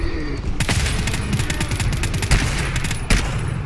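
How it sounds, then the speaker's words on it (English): Rapid bursts of automated gunfire from a sniper sentry turret in the co-op shooter GTFO crackle loudly and continuously, with a few heavier impacts standing out near the end. "That sniper sentry is firing with that boost"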